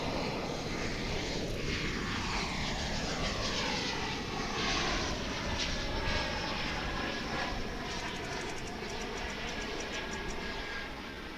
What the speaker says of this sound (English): This is an Embraer 175.